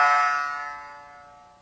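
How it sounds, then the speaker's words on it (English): The first string of a shamisen plucked once, a bright, buzzing sawari tone rich in overtones that rings out and slowly decays, sounding alone and close. "The note reverberates longer and has a buzz in it."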